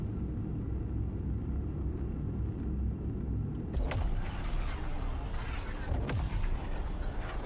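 An explosion in the video game Jump Ship after a jammer is shot: a broad, loud rumbling roar swells over steady low background noise, with sharp bursts near the middle and later.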